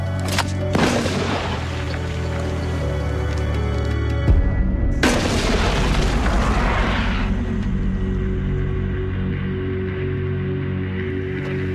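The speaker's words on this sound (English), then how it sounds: "Like the mortars in the Rangers' training, this one fires the grapnel and rope over 150 feet up the cliffs." A mortar fires a grapnel and rope up a tall cliff face like the one at Pointe du Hoc. Two loud, close booming blasts ring out, each followed by a rushing roar that fades into a low rumble.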